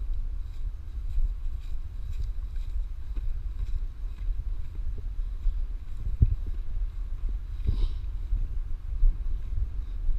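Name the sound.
wind outdoors at a backpacking camp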